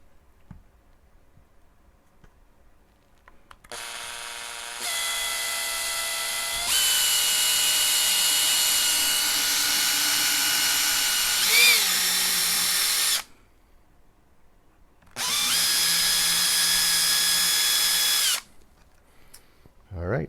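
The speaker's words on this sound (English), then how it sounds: "we're going to go ahead and drill this into that cavity" A power drill bores into the cavity of a black limba Strat-style guitar body: two long, loud whining bursts with a short ramp-up, a pause of near silence, then another shorter burst.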